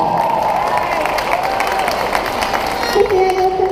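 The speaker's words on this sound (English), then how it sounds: "Please give her a round of applause." An audience at a 2018 high school graduation ceremony applauds with dense, continuous clapping and some cheering, loud and sustained throughout, with a voice over the crowd.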